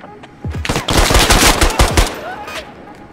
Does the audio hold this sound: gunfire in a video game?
yes